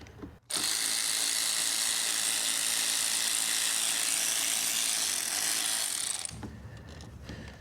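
A ratchet with a 10 mm socket works on a 2012 Nissan Altima SR V6, making a loud, close, continuous rapid clicking for about six seconds before stopping, followed by a few faint knocks.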